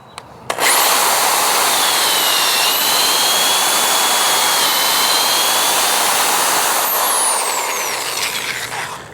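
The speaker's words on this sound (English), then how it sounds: "I also use a stop on the drill, so you don't have to worry about judging how deep you've gone." A power drill fitted with a depth stop bores a hole about an inch deep into wood, starting with a sharp burst and then whining loudly and steadily at close range for several seconds before easing off.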